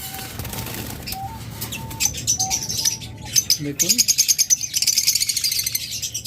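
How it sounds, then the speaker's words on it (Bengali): Caged birds for sale at a bird shop chirp and tweet in busy bursts with wing flapping, growing denser and louder toward the end, while someone talks over them. "এখানে আরও বেশ কিছু নিউ পাখি রয়েছে"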